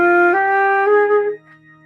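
A flute plays a short run of three stepping notes starting on low E, clear and close, then falls silent over a faint low hum.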